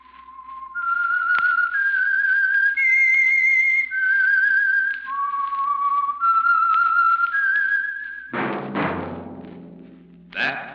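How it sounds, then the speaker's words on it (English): A whistled theme melody for The Whistler, the Signal Oil Program radio show, rises and falls in clear sustained notes before ending in a burst of orchestral music. "That whistle is your signal for the Signal Oil Program, The Whistler."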